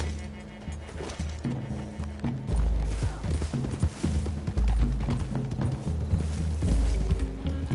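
A horse's hooves clip-clop in Red Dead Redemption II, a steady rhythmic beat of footfalls over ambient game sound with deep thumps, with no voices present.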